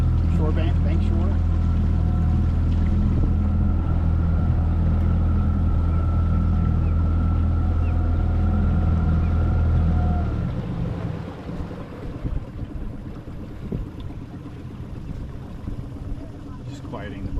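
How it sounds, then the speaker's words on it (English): A motorboat engine drones loud and steady on the St Johns River, then is throttled down around the middle to a low idle rumble with wind noise on the microphone. "Just quieting the boat a little bit."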